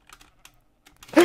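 Light, scattered keystrokes on a computer keyboard, a few quiet taps in irregular bursts, ending in a sudden loud burst of noise.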